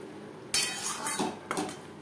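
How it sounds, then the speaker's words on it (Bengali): Metal spoon scraping and clinking against a pan while boiled chickpeas are stirred with spices, a few loud knocks and scrapes close up with no talk. "ছোলার সাথে মশলা বেশ ভালো করে মিক্স করে দেবো।"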